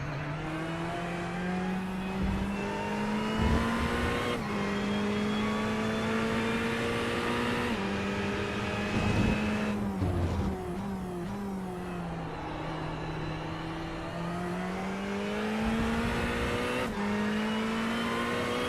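A GT3 race car laps the Jerez circuit in a racing game, its engine droning steadily with rising and falling revs through gear changes and braking into corners, close and continuous with no talk.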